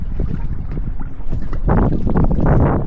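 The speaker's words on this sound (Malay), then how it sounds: "Kalau kau boleh dengar lah, angin kuat dekat sini" Strong wind buffets the microphone beside a river in the rain, a steady low roar that swells louder and broader in the second half, with no voices.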